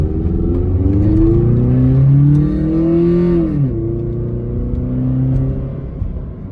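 1994 Honda Accord engine revving with a newly installed cold air intake, a close, loud engine note rising in pitch over a few seconds, then dropping back to a steady idle hum.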